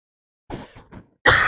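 A couple of muffled coughs after a brief silence, followed by a sharper, louder cough, close to the listener.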